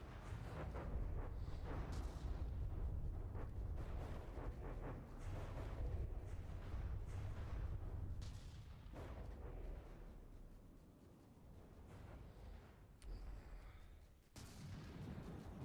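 Missiles fire in a video game battle around a monolith, heard as a continuous dense rumble of booming blasts and bursts that swells and dips over time, loud and close with no talk.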